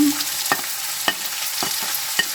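Garlic fries in hot oil with a close, steady sizzle and a few sharp pops spaced through a short stretch, and no voices.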